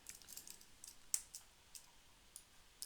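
Light, sparse keystrokes on a computer keyboard, a handful of quiet clicks spread unevenly over a few seconds with no talk.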